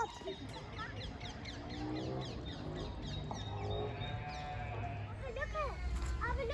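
Lambs on a farm bleat in several short wavering cries scattered through the clip, moderately near, while adults and children chatter over them on a calm day.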